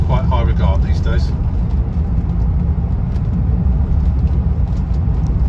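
A 1976 Rolls Royce Silver Shadow drives along with a loud, steady low road rumble and engine drone, while a voice speaks near the start.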